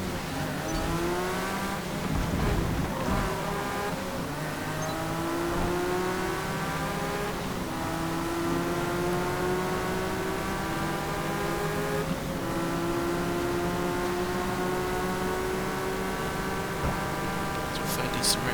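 Jaguar and Lamborghini race cars in Forza Motorsport roar steadily, engine notes climbing and shifting as they speed along, a continuous loud drone with rising harmonic whines throughout.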